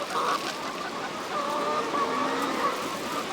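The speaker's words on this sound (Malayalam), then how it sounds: "കോഴി ഫാം ആട്ടോ" Many chickens cluck and squawk together in a constant, dense din on a poultry farm, like a crowded poultry shed.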